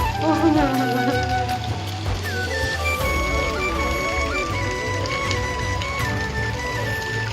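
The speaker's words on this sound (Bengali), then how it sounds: "প্রচন্ড বৃষ্টি হচ্ছে প্রচন্ড" Heavy rain pours steadily during a thunderstorm at a home, forming a dense, continuous wash close by with a low rumble underneath and no talking.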